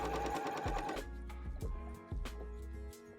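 A sewing machine runs a fast, steady burst of stitches through a leather wallet with a zipper, then drops to a few slow, separate needle strokes and clicks. Quiet and close, with no talk.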